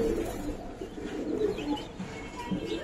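A rare Kaldom pigeon with pearl eyes coos in soft, repeated low murmurs, close by, over a steady background hum.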